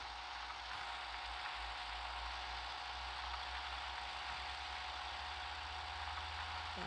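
A farm machine engine hums steadily in the video game Farming Simulator 16, a low continuous drone with a broad hiss on top that stays level throughout, with no talking.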